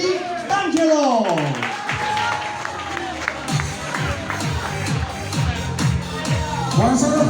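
Live concert audience applauding and cheering for a singer alongside another performer, a loud crowd roar with scattered clapping and shouts, while music and a voice carry over it.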